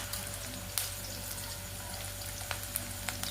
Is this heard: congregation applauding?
no